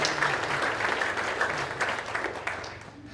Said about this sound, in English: I think a round of applause for John and all the work that he's